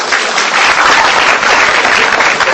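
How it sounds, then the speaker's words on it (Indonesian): Steady, loud audience applause at a stand-up comedy show in Indonesia, dense clapping sustained evenly for the whole stretch with no voices over it. "Tepuk tangan dulu dong buat Cikarang."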